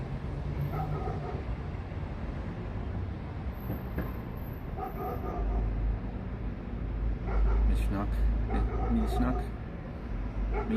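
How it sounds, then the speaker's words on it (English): A German Shepherd barks in several short bursts at a distance on a city outing in Athens, Greece, under steady street noise and low traffic rumble, with people talking nearby. "That sounds like a German Shepherd barking there now"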